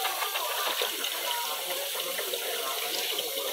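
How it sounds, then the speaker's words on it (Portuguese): Tap water pours steadily into a sink during dishwashing, a close, loud, unbroken rushing splash lasting throughout, with no talking over it. "E essa água derramando aí?"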